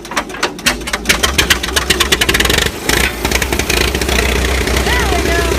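A bulldozer engine runs loud and close, its pulsing exhaust chugging irregularly as the exhaust is covered and uncovered, settling into a steadier rumble, with people talking over it.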